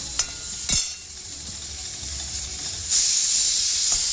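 Steam hisses hard from a pressure cooker, a loud close rush of broadband noise that surges near the end, over a background of frying with a couple of sharp clicks.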